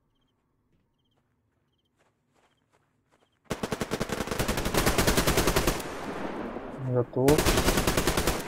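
Machine gun fire in the online shooter Survarium starts abruptly after a quiet stretch, rapid loud bursts that rattle on continuously with a short break near the end, and someone speaks briefly.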